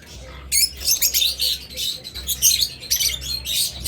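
A pair of orange-head opaline red-eye pet birds chirps and squawks in quick, busy bursts, close and fairly loud, over a low background hum.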